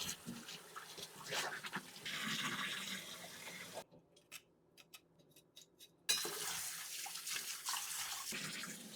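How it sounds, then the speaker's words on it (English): Cold water runs from a tap over raw chicken wings being rinsed, a steady close gush that drops out to a quiet pause midway before rushing back on. "We're gonna run this under some nice cold water, guys."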